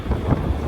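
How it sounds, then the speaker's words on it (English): Gusty wind on a windy New York City day produces a steady low rumble buffeting the microphone, heard alone without any talking. "it is a windy New York day"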